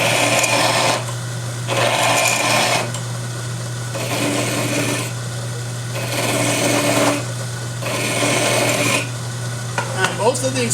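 Metal file rasping a coin ring in repeated bursts of scraping strokes, each lasting about a second with short pauses, loud and close over a constant low motor hum.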